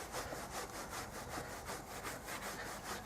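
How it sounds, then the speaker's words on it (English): Wire wool is rubbed over pitted chrome on a Lexmoto ZSX 125 motorcycle in quick, regular back-and-forth strokes. The scrubbing rasp is soft and close, with no talking. "I'll give it a bit of a polish with some wire wool"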